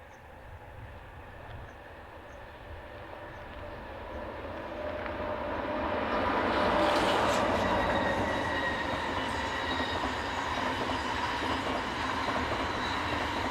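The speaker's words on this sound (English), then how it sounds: "A northbound intercity service is powered by number" A northbound intercity train hauled by a Class 1800 electric locomotive approaches and passes, a steady rumble swelling from a distance to a loud close roar with faint wheel squeal and clatter, then holding as the carriages roll by.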